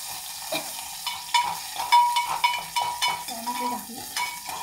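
Chopped tomatoes going into hot oil in a frying pan for spicy Maharashtrian dal (varan), with a soft sizzle and repeated scraping stirs, a few brief clinks of the spoon against the pan.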